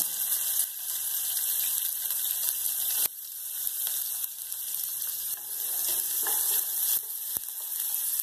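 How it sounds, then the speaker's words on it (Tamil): Green and red chillies with onion fry in hot oil, a loud, continuous close sizzle with occasional stirring clinks and a couple of sharp breaks. "இப்போ 2 பச்சை மிளகாய், 2 வரமிளகாய் எண்ணெயிலையும் சேர்த்துக்கீங்க, வெங்காயம் போடுறதுமே சேர்த்துக்கீங்க."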